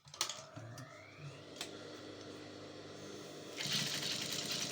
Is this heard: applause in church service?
no